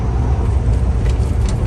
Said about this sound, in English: Whole lot of traffic.